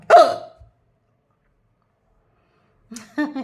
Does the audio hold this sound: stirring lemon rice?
no